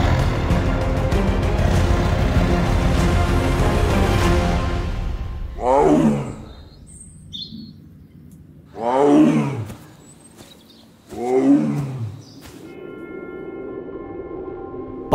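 A wild tiger in Bandhavgarh National Park, India, gives three deep, rasping roars a few seconds apart, each rising and falling, after a stretch of music.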